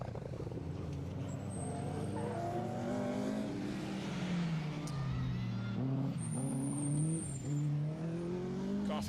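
A black Mini rally car works through a circuit rally stage at Anglesey Circuit, engine note rising and falling through gear changes at moderate distance, with other motor noise around and no clear talk.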